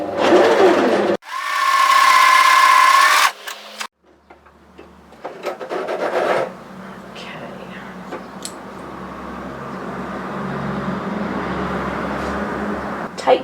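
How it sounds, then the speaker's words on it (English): A cover stitch sewing machine hems fabric with a loud, steady motor whir for a couple of seconds. Cloth handling and rustling follow, then a longer, quieter stretch of running stitching. "If you're using a cover stitcher like me, cover stitch, and just stitch that into place from side to side."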